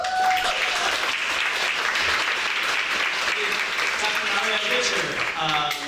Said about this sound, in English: David Rivera, please give him a round of applause